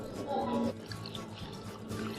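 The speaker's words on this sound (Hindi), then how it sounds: "अब इसके ऊपर डाल देंगे फ्रेश पानी।" Fresh water poured over strained chhena (paneer) while making kalakand, a short gush of pouring liquid followed by softer trickling and dripping, quiet and close.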